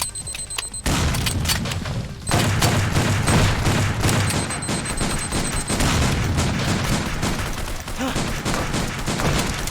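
Sustained heavy gunfire in the virtual reality shooter Silicon Rising, loud and close, with dense rapid bursts and booming impacts running almost continuously after a brief quieter opening.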